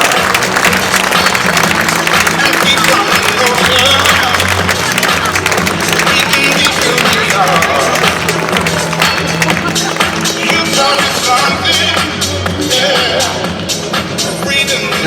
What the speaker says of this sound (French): Allez, je crois qu'on peut les applaudir très fort.